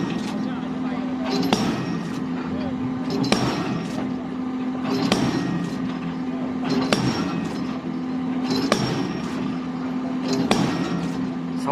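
Heavy rhythmic impacts from a large drop-hammer pile driver driving round piles in Thailand, each slam ringing out about every two seconds over a constant engine drone, loud and close.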